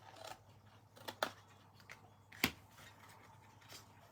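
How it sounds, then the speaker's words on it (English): Scissors snip paper card for a small treat box, cutting to the score line in a few quiet, crisp clicks spaced apart, close and faint with no talking. "cut to the score line, cut to the score line, and cut that little section out"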